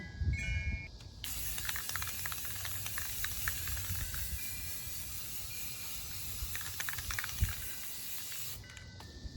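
Aerosol grey primer sprays onto a pumpkin nutcracker figure in a steady, close hiss. The hiss starts after about a second, holds through most of the clip and stops just before the end.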